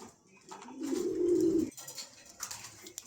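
A pair of pigeons gives a low, sustained cooing that swells for about a second and then stops, with faint chatter and bird sounds around it at close range.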